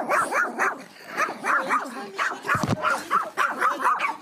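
Several dogs, rescued from shelling in Kharkiv, bark and yip repeatedly in a lively, overlapping chorus, loud and close, with a brief whimper mixed in.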